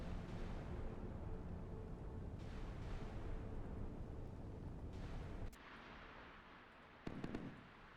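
Naval guns firing at targets in the Sea Power naval combat game, a dense, loud rumbling barrage of blasts that cuts off abruptly, followed by a quieter stretch with a few sharp reports near the end.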